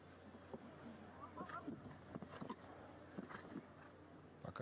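Large horse ridden by a small rider in a show jumping competition at the Miami Global Champions event, hooves clip-clopping in a quick irregular beat at a distance under faint ambient noise and a commentator's voice.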